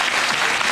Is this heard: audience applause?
yes